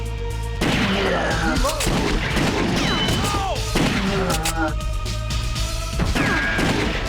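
Rapid arcade light-gun shots from The House of the Dead 2 crack repeatedly over a constant loud game soundtrack, mixed with swooping effects and enemy hit sounds in a dense, continuous barrage.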